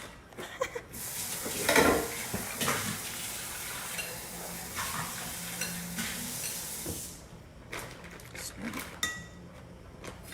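Cauliflower added to a pan of keto albondigas soup, with sizzling, scraping spoon stirs and clinking against cookware, close and fairly quiet, a burst of louder stirring early on and brief pauses between movements.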